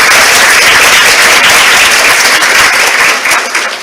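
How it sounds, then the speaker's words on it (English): A seated audience at a nursing Lamp of Learning ceremony breaks into loud, dense applause that holds strong for a few seconds and then begins to taper off, with no talking over it. "If we can give everybody a round of applause"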